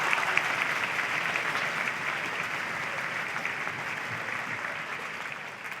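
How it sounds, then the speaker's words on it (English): An indoor school band concert audience gives the sixth-grade percussion section a sustained round of applause, a dense, steady wash of clapping lasting several seconds at even volume, fading slightly at the end. "Could we please give our entire percussion section a round of applause?"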